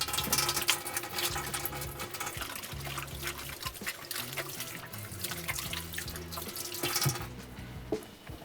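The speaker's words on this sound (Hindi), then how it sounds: "हाथ धो लेते हैं" Tap water runs steadily into a kitchen sink during hand washing, a close continuous splash with shifting patter as hands move under the stream, and no talking.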